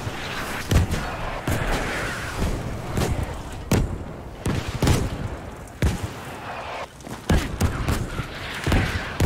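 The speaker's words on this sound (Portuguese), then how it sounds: "Artilharia." Artillery fire in Battlefield 5, with heavy booms and sharp blasts landing at irregular intervals, loud and close, one impact after another with no gaps of quiet between them.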